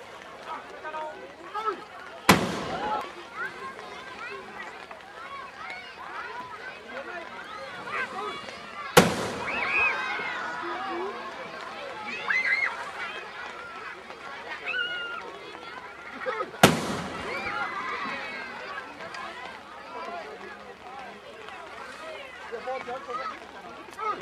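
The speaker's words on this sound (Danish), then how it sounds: "Så må der skydes! 27 skud!" Cannon fire of a 27-gun royal salute at a Danish harbour ceremony: three sharp, distant booms roughly seven seconds apart, with crowd chatter and voices continuing between the shots.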